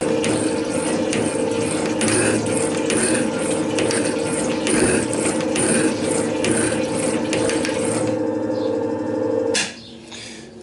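A metal shaper machine cuts a groove into an idler gear with a new cutting tool at slowed speed, giving a steady, loud mechanical ratcheting and grinding that runs continuously for about nine seconds and then stops abruptly.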